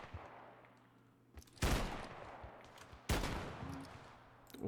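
Two heavy booming shotgun blasts in the video game ShatterRush, about a second and a half apart, each sharp and loud with a rumbling tail, over a low background hum.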